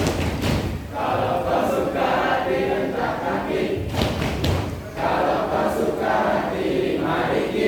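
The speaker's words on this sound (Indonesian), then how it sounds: "Kalau kau suka hati hentak kaki." A group stamps their feet in time with a children's clapping song during an organisation training session, with heavy rhythmic thuds under loud group singing.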